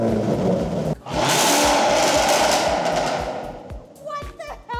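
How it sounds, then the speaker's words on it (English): A Range Rover Sport SVR engine revs hard with the throttle blipped, roaring loud and close, a brief dip then a sustained blare, followed by sharp popping crackles from the exhaust as it settles. "I made her stand behind the car while I flip the throttle"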